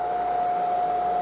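An ARBE jewelry polishing machine with a vacuum dust system runs at steady speed, giving a constant motor whine and an even airy hum with no change in level.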